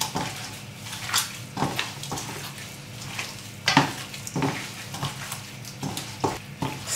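A gloved hand mixes curry powder through a pot, giving soft, irregular squelching and rustling strokes with occasional light knocks against the pot, close and fairly quiet.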